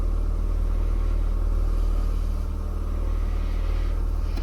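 Honda Civic engine idling with a fuel leak, a steady low rumble close by, running evenly throughout with no talk over it.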